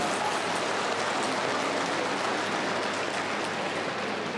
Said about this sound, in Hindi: आपकी तालियां उठनी चाहिए थी इसका।